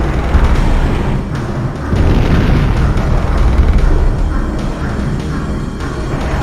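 Sub-cannon fire in the Saturn game Panzer Dragoon Saga, heard as loud, dense booming bursts that roll into one another across the whole stretch, with no voices.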